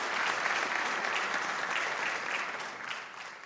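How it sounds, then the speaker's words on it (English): An audience at the Rahway's Own community awards ceremony applauds in a dense, sustained wash of clapping that holds steady and fades slightly toward the end, with no voices standing out. "let's give them one more round of applause"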